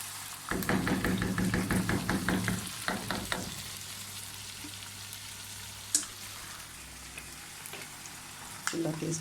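Chicken karahi cooking on a stove, a loud bubbling, rattling sizzle with stirring for the first few seconds, then a quieter steady hiss with an occasional sharp clank of a utensil.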